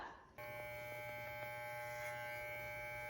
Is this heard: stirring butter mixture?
no